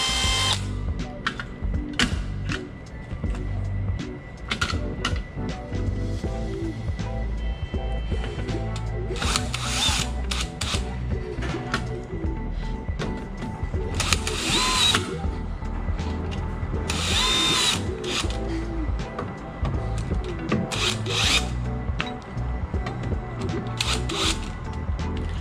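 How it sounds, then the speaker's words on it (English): A power drill runs in repeated bursts while installing a digital door lock, whirring close up with short pauses, ratcheting clicks and handling noise between runs. "Chuck it into my drill."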